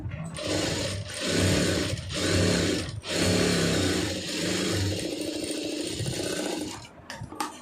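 A sewing machine stitches cloth in loud, close bursts, running in short spurts for the first few seconds, then in one longer continuous run before stopping.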